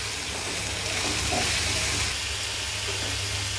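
Onions frying in a pan: a steady, close hiss and sizzle runs evenly for a few seconds with no speech.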